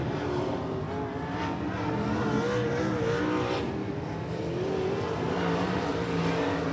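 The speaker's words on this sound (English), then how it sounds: "A modified hot lap qualifying coming up for you this evening." Modified race cars run hot lap qualifying at Rockcastle Speedway, their engines a continuous distant roar with rising and falling revs as they circle the track through the evening session.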